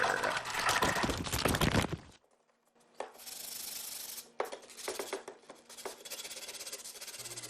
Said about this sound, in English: I just want to sand them down a little bit, bevel those edges to make sure that I'm not going to get cut or scraped